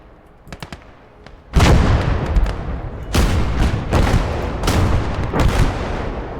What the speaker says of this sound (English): That's heavy artillery.